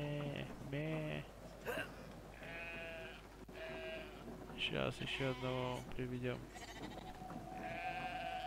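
Sheep bleat several times in the video game Brothers: A Tale of Two Sons, wavering calls close by, mixed in among a man's speech over a steady background.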